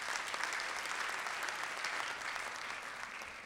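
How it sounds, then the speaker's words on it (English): An audience applauds at the NALS 2014 event, a steady wash of clapping hands that holds evenly for a few seconds at moderate distance with no talk over it. "I would like to ask you guys to give a big applause to NALS and their committee member for organizing this great event"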